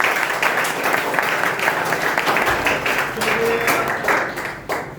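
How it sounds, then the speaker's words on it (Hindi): Audience applause at a panchayat student award ceremony in Sikandarpur, a dense, sustained wash of many hands clapping close by, with voices faintly audible underneath. "एक बार और ताली बजवाना चाहेंगे"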